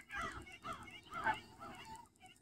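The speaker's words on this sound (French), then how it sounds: "Ça, c'est des bernaches." Canada geese honk outdoors in Lévis, Quebec, giving a few overlapping nasal calls in quick succession at moderate distance over a low rumble of background noise.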